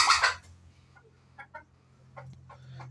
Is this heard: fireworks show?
no